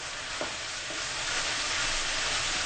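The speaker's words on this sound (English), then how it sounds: "I want to fry my meat a little bit, and it'll begin to fry once the juice evaporates." Ground meat for a spaghetti meat sauce frying in a pan, a steady dense sizzle that holds at an even level throughout, close up, with one faint tap near the start and no talking.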